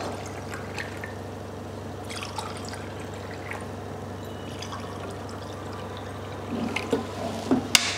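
Mineral water from a freshly unsealed bottle is poured into drinking glasses, a steady low pour and trickle running through the clip with a few brighter splashes and drips near the end, close by and without talk.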